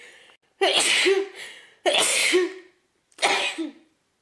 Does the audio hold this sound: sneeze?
yes